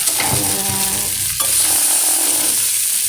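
Idli upma stirred in a hot pan, a spoon scraping and turning the crumbled mixture over a steady sizzle, close and continuous with no talk.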